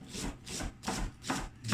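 A knife slicing cabbage finely for coleslaw on a cutting board, four or five quick rhythmic crunchy strokes, close and clear.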